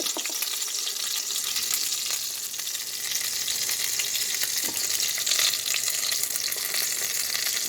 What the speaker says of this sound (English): Now, in goes the egg part of the egg foo young.